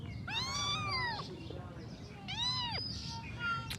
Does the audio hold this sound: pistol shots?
no